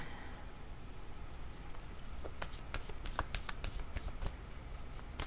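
Playing cards shuffled during a French-language card reading, with a quick run of crisp, close riffling and snapping card sounds building through the second half over a quiet room.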